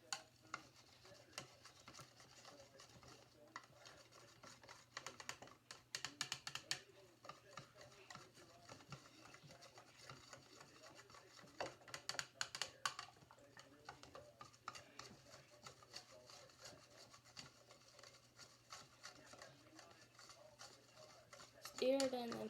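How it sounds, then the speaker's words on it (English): A spoon stirs chocolate milk in a cup, making quiet, uneven scraping and clinking strokes that come in short bursts, with faint low background hum. "Now we're gonna stir it in."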